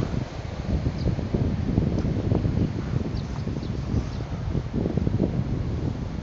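Wind blows steadily outdoors by a roadside cooking spot, a loud continuous rushing buffet of noise on the microphone with faint rustling and no pauses.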